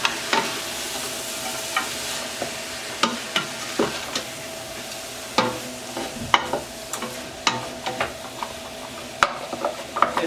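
Chicken with smoked paprika and garlic sizzles in an oiled pan while a utensil scrapes and taps against it in irregular strokes over a soft, steady frying hiss. No one talks.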